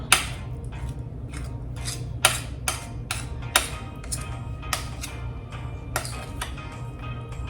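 A spoon is scraped clean of chocolate chip cookie dough against a bowl, giving a string of about a dozen sharp, close clinks and taps at an uneven pace, with no voices.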